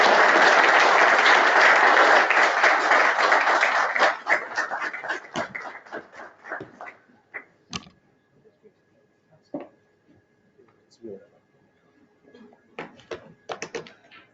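Audience at a member network meeting bursting into loud, sustained applause for about four seconds, then thinning into scattered claps that trail off, with a few isolated claps returning near the end.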